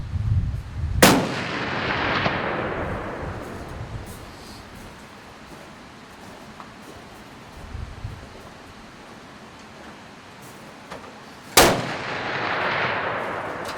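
Experimental rifle shots on the firing line at the Kentucky Challenge shooting competition: two loud, sharp cracks about ten seconds apart, each followed by a long rolling echo, with outdoor wind and rustle between them.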